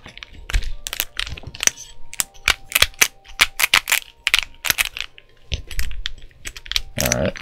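Typing on a Poseidon65 (PSD65/BM65) mechanical keyboard, tray-mounted and modded with foam, giving a steady run of close, crisp individual keystrokes with an occasional louder clack.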